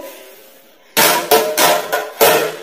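Removing the container from a household flour mill (atta chakki) produces a cluster of five hard knocks and clatters in quick, uneven succession, loud and close against a faint room background.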